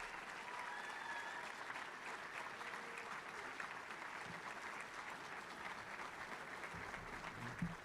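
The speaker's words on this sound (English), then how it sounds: "So, another round of applause for our graduates." A crowd at a spring graduation ceremony applauds its graduates in a steady, even wash of clapping that holds for several seconds, heard from a distance at a fairly low level.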